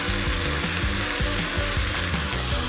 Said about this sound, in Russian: Имбирь должен чуть-чуть поджариться в масле и при этом отдать сок.